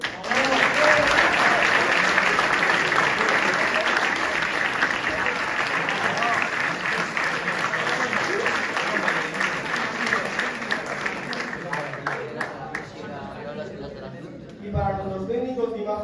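Warm audience applause fills a theatre for a show's founders, thick continuous clapping that gradually fades, giving way near the end to a voice speaking into the hall.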